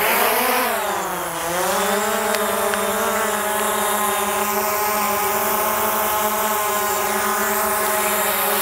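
DJI Mavic Air 2 drone taking off and hovering, a loud, steady high-pitched propeller whine that dips briefly at lift-off, then holds an even buzzing drone tone nearby.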